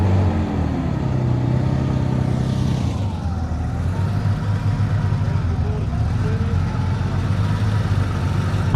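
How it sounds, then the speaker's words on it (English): A Porsche 993 Turbo at a Sydney Motorsport Park show rumbles steadily at low revs, a loud, close, continuous engine drone that barely changes. "This had more than your standard rumble about it. This is a Porsche 993 Turbo."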